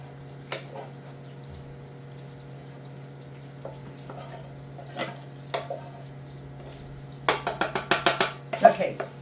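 Leftover rice is tipped into a frying pan and worked with a utensil: sparse clinks and scrapes at first, then a dense run of quick scraping strokes near the end, over a steady low hum.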